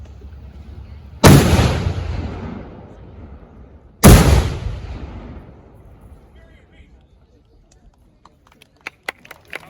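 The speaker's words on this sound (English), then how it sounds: "Howitzer, fire!" A howitzer cannon fires at a museum demonstration at the American Revolution Museum at Yorktown: two loud, booming blasts a few seconds apart, each rolling away in a long echo, followed by faint clicks and scattered sounds.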